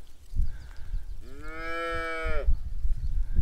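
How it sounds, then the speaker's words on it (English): A small cow moos once in the Azores countryside on Pico Island, a single drawn-out low call about a second long, close by over outdoor wind rumble. "You make a lot of noise for a small cow"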